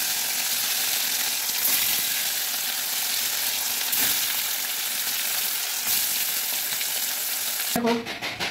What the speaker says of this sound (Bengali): এখন আমি কড়াইতে তেল দিয়ে দিই।